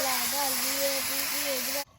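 Water is poured into a hot pan of frying beans and potatoes, making a loud continuous hiss under a person talking, then cutting off abruptly.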